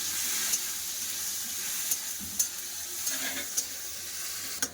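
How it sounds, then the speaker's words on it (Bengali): Tomato and onion sauté in a pan with a soft, even sizzle and a few sharp scraping taps as they are stirred, close by with no talking. "টমেটো পেঁয়াজ ভালো করে কষে নেবো"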